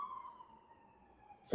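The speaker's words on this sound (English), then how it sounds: "Whoop, whoop. That's the sound of the police." Police sirens sound from a main road outside a window, a faint, distant, steady wail. A sudden sharp noise comes right at the end.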